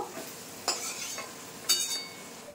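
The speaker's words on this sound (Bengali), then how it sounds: "পেঁয়াজ আর রসুনটা কিন্তু খুব সুন্দর করে ভেজে নিয়েছি এই যে।" Onion and garlic frying in oil in a pan: a quiet, steady sizzle with a couple of sharper utensil scrapes and clinks as the mixture is stirred, heard close.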